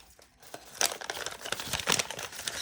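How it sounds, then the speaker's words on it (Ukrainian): A paper surprise package crinkles and rustles as it is opened by hand, close and fairly loud, in a run of quick crackling bursts. "Відкриваємо пакет."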